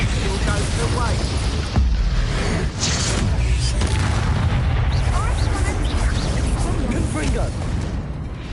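Spell explosions from Expulso and other combat magic in the video game Hogwarts Legacy, loud booming blasts and bursts in a continuous battle din, with voices talking over the action.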